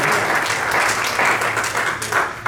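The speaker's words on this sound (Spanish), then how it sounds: "Un aplauso al Señor Jesús con todo el corazón." Church congregation applauding at a Sunday service in a house of prayer in Arkansas, a loud, sustained roar of many hands clapping without pause.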